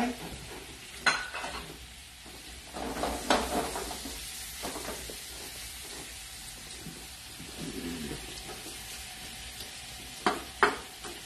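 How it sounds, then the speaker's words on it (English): Onion and garlic sauté in oil in a pan for chicken cacciatore, with a soft continuous sizzle broken by scraping stirs and occasional clacks of the utensil, fairly quiet and close. "we got over here the oil. And we put the onion and the garlic, the saute."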